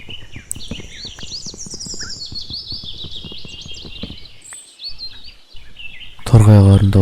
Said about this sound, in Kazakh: Торғайлардың дауысы ма, не? Попугайдікі ма?